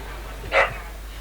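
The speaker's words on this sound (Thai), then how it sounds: "ถ้ามีเสียงหมาเห่าก็ขอโทษด้วยนะครับบ้านผมเลี้ยงหมานะครับ" A pet dog barks once indoors at home, a short, moderately loud burst heard over steady background hum from a nearby main road.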